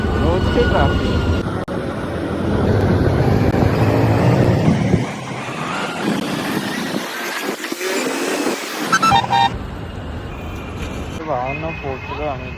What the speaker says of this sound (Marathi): रोजची ट्रॅफिक.